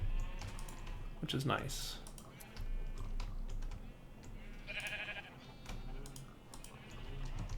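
Minecraft sheep bleat a few times in a game world, short nasal cries rising over steady keyboard typing while someone talks throughout.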